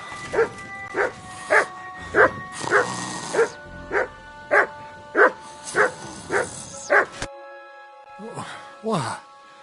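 Repeated dog barks from a video game, Kingdom Come Deliverance II, come in a steady run of about a dozen loud, close yelps, then a pause and a couple of whimpering howls at the end.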